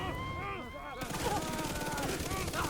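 Enemy gunfire in a video game breaks out over an electronic tonal hum as rapid, dense bursts of shots, fairly faint and continuous after a sudden onset.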